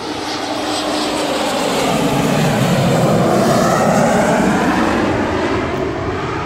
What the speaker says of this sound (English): plane's coming over, so I'm going to stop speaking for a second.